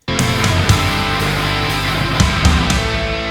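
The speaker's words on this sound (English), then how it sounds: "Getting some low toms with snare and kick together." Low toms, snare and kick drum hit together in a dense, thick closing fill of a home-produced rock track, loud and busy with sharp hits spread throughout.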